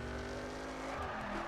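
A Mercedes-Benz C63 AMG in perf spec drifts in The Crew, its engine roaring steadily while the tires squeal and skid in one continuous, loud, dense wash without a break.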